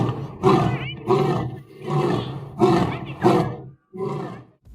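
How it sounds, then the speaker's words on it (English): A lion roars in a run of about six deep, powerful bursts with short gaps between them, loud and close, with no other sound around. "Lion roar can be heard up to 8 kilometers away."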